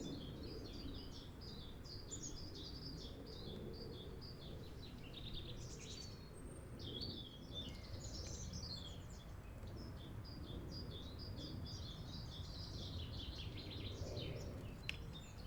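Birds singing in spring, a distant chorus of overlapping chirps and warbling phrases that continues steadily throughout, fairly faint, over a low rumbling background.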